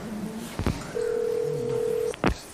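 A landline phone call: quick dial clicks, then a long steady ringback tone, and another click as the line connects, loud and close with no talking.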